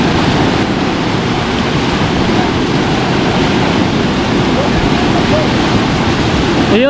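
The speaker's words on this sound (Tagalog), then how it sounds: "malakas po yung agos" Strong river current rushing over rocks at a fishing spot, a steady loud broadband roar that fills the whole stretch without break.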